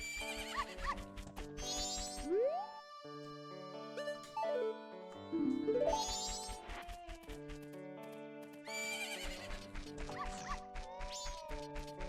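A horse neighs in The Legend of Zelda: Majora's Mask as several whinnies that rise and fall across the span, set against layered game music with steady rhythmic tones and no talking.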